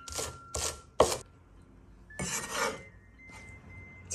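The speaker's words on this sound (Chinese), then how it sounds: "小葱准备几颗，切成葱花。" A knife chops scallions on a cutting board into small pieces, quiet close crisp strokes in short bursts: three quick cuts, a pause, then a longer run of chopping, no speech.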